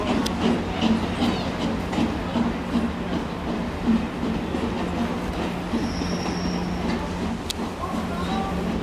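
A CrossCountry train from Nottingham rumbles into platform 3 at Cardiff Central station with steady low engine drone, rolling noise and faint wheel squeal, a brief high tone near the end.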